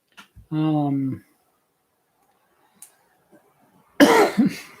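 A single harsh cough bursts out near the end, after a short hummed or voiced sound and a stretch of near silence.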